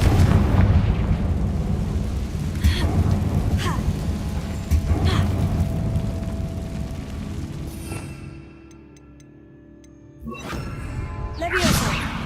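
Confringo blasting spell detonations in Hogwarts Legacy, heavy booming bursts over a dense rumbling game soundscape with music, then a brief lull and another loud whooshing blast near the end.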